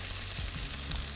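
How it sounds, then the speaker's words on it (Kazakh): Meat fries in hot oil in a pan for a hot vegetable salad, giving a steady close sizzle with a few stirring scrapes and no talking. "Етіміз міне қуырылып жатыр."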